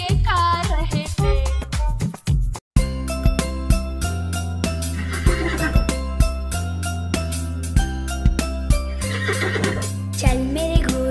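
A horse neighs in a whinnying call near the start of a Hindi children's nursery rhyme, then cheerful sung music with a steady beat carries on over it.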